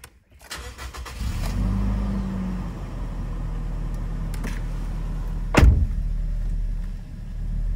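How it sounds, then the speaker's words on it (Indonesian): A Toyota Kijang Innova 2.0 petrol with automatic transmission pulls away, its steady low engine hum building and holding close by, with a brief sharp knock partway through. "Masuk gede dan mobil berjalan cukup cepat."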